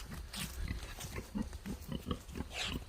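Pigs in a farm pig pen grunt in short, low, irregular bursts, faint and somewhat distant over outdoor background noise.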